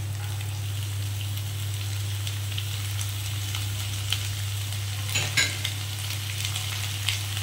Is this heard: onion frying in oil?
yes